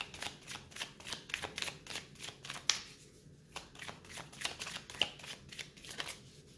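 Tarot cards shuffled by hand in a steady run of crisp, close riffling flicks, with a brief pause midway before the rapid shuffling resumes.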